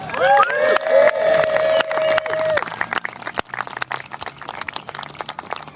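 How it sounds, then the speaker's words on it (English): An outdoor crowd at an evening bike-ride event applauds and cheers, dense clapping up close with whoops and whistles that fade into scattered claps and chatter. "Give a round of applause for yourselves."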